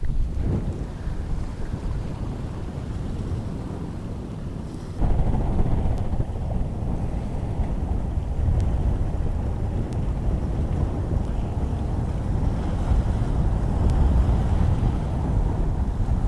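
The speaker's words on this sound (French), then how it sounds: "Bon là avec le vent, je peux plus parler." Strong wind buffeting a microphone outdoors beside a lake, a dense, rumbling roar that fills the whole stretch, getting gustier and louder partway through, with no voices heard.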